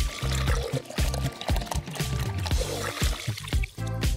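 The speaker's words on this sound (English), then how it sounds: "Now we'll fill up a smaller container with water." Water pours into a small container, splashing and gurgling continuously in close, bright bursts with brief pauses as the stream shifts.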